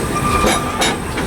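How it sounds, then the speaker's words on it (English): Narrow gauge tourist train on St Kitts rolling at its turnaround point, a loud continuous rumble of wheels with a few bright squeal-like flares, no talk over it. "this is where the train turns around to go back"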